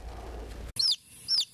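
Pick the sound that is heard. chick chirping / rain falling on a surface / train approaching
chick chirping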